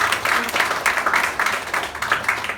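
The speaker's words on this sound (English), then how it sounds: "Clap the hand for him." A network marketing business audience claps, a fairly close, continuous patter of many hands with slight rises and falls in intensity over a couple of seconds, and a hint of voices mixed in.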